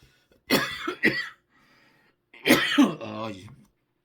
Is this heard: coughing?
yes